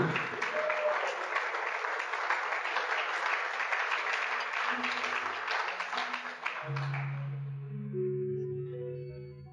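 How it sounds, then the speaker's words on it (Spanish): Church congregation applauding during a sermon, a full steady roar of clapping lasting several seconds before cutting off abruptly, followed by soft sustained keyboard tones. "Un aplauso para Cristo, mucho más fuerte."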